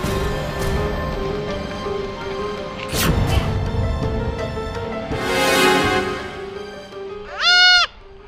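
A goat gives one short, clear bleat near the end, close and loud, against a continuous noisy outdoor background with faint voices.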